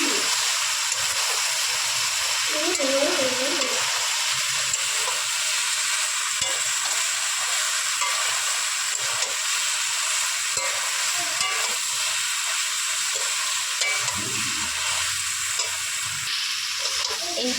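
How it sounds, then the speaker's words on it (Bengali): Mixed vegetables with ground spice paste are stir-fried in a pan, with a constant close sizzle and frying hiss and intermittent stirring and scraping throughout, without talk. "দিয়ে ভালো করে সবজিটা কষিয়ে নেব"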